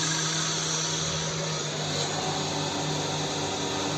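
A GoodCut GC5025WL mini wood lathe runs with a steady, loud motor whir and dense broadband hiss that holds even throughout, with no voices.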